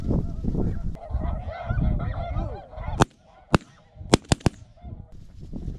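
Snow geese honk in a busy, overlapping chorus during a waterfowl hunt, followed by a run of sharp, loud cracks separated by quieter honking.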